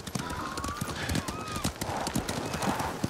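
Horse hooves clip-clop steadily in the video game Ghost of Tsushima, with rhythmic hoofbeats under soft game ambience and faint tonal sounds.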